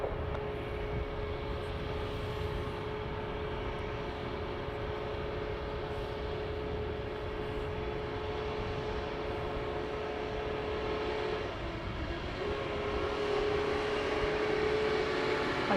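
An ATR turboprop taxiing at Dublin Airport, a steady broad engine drone with a constant propeller hum, moderately distant and unbroken, with no voices.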